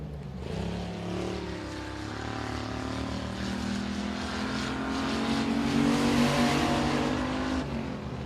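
A Bobby's Body Shop number 100 Outlaw race car in time trials at Boothill Speedway, its engine a loud, sustained roar that climbs in pitch as it runs the racetrack throughout.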